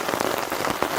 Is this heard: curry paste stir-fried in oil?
no